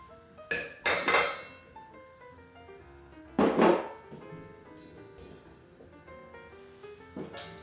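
A spoon knocks and scrapes against a bowl as butter is mixed for craquelin, giving a few sharp clinks spaced seconds apart, quiet and close with no talk.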